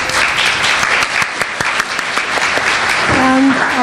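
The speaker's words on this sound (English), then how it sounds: "So I'd like to give them a round of applause." A conference audience applauding the event's sponsors, a loud, dense clapping that carries on steadily from start to finish, with a few voices faintly mixed in underneath.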